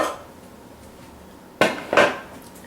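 Chocolate cookie and graham cracker crumb crust pressed into a pan for a yogurt cheesecake: a quiet stretch, then two sharp clattering knocks of utensil against metal pan close by, the second slightly drawn out.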